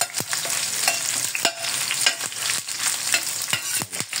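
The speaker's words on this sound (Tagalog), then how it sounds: "gisa lang muna natin itong ating sibuyas" Chopped onions sautéing in hot oil in a pan for pork steak, a steady close sizzle broken by repeated scrapes and clacks of stirring.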